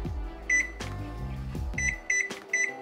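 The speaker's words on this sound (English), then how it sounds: "So the first thing we have to do is set my oven to 375." An electric oven's control panel being set to 375 degrees in a home kitchen. A series of short, high electronic beeps, single and paired, sounds close up over a low humming background.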